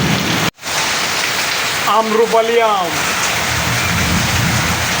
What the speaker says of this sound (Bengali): এভাবেই বৃষ্টি হচ্ছে অঝরে বৃষ্টি